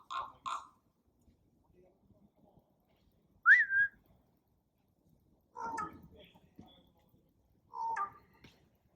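A wild raven mimics a whistle outdoors on a campus: short separate whistled calls and croaky notes spread across quiet pauses, faint and intermittent, with a human whistle heard among them.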